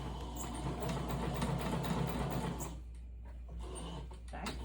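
Sewing machine stitching curtain fabric for an RV or horse-trailer roll-up door, a steady close rapid whirring hum that stops partway, followed by quieter handling sounds.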